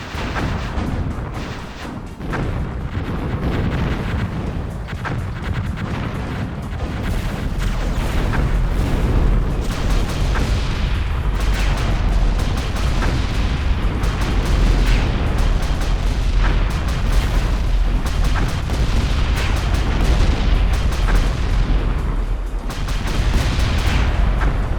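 Light artillery shells pound a target in the strategy game Zero-K, a dense, continuous barrage of overlapping booms and bursts that stays loud throughout with no pauses.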